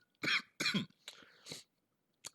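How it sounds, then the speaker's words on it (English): A few sharp coughs close by, two strong bursts followed by smaller throat-clearing hacks, with brief silence between them. "I don't care about all my coughing"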